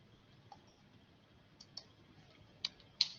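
Computer mouse clicking while working in Autodesk Inventor: a handful of faint, sharp, isolated clicks spread unevenly over a quiet background, the last few slightly louder and close.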